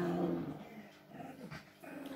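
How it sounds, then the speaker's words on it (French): Dogs at play letting out low, soft growls and grumbles in short bursts, fairly faint and close. "Ça y est, les chiens sont en route."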